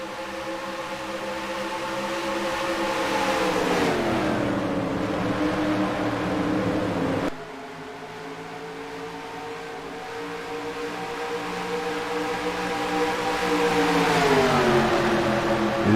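A pack of race cars at Charlotte Motor Speedway roars past with sustained engine drone, pitch sweeping down as cars pass and rising again, loud and continuous with no talk.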